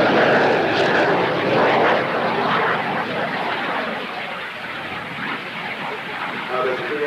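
An airshow jet holds a maximum sustained-G 360-degree left turn, its engine a broad continuous roar that fades slightly and then swells again, with a voice talking over it.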